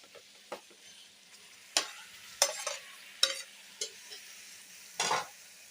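Chicken curry masala with tomatoes, green chillies and red chilli sizzles softly in a pan while a spoon stirs it, giving several distinct scraping strokes over a low steady frying hiss, close and quiet.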